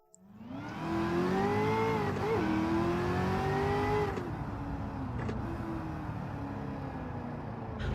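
Corvette ZR1 in Gran Turismo 7 with a loud, steady supercharger whine over engine drone, rising in pitch and dipping as the car shifts, then holding near-constant for several seconds.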